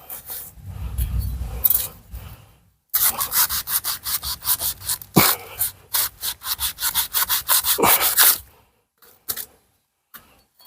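A blade scrapes repeatedly across a cut banana tree stump, quick rhythmic strokes in close bursts, pausing briefly before a final run of scraping.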